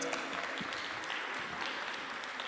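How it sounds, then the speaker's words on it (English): Soft, distant applause rolls through the audience for the ladies and a gentleman on stage at a leadership event, an even, continuous wash of clapping. "A big applause for them, they earn it."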